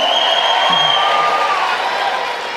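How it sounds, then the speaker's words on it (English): A crowd at a town hall political meeting cheers and whoops steadily, a loud sustained roar with shrill whistling that slowly tapers off. "Oropuch East also has a cheering crowd"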